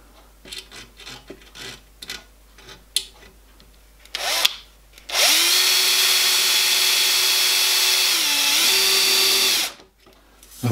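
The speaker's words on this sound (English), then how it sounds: "the top of the bracket's been drilled and the rivet put in place" Power drill boring into a steel boiler support bracket for a miniature steam locomotive, a steady loud whine lasting several seconds with a brief pitch shift near the end, preceded by light clattering handling noises.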